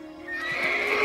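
A horse neighs in a rising, drawn-out whinny that grows louder and closer, heard alone with faint hoof sounds beneath.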